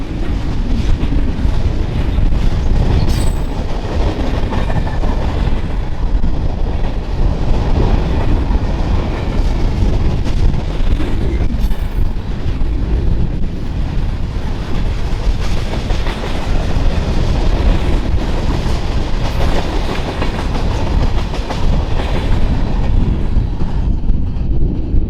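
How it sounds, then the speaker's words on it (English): A CPKC local freight train hauling tanker cars and grain hoppers rolls past on the international mainline across North Dakota, a loud, steady rumble with clickety-clack of wheels and some wind buffeting throughout. "With tanker cars and grain hoppers, this local's consist is very much reflective of the economy in this part of the country"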